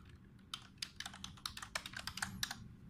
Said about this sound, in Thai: เราสามารถที่จะ พิมพ์ได้รวดเร็วนะครับ แล้วก็เปลี่ยนภาษา